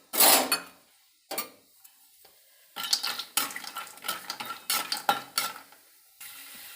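Almonds dry-roasting in a pan, heard as bursts of rattling and scraping as a spoon stirs them, separated by short quiet gaps, close and fairly loud with no talk.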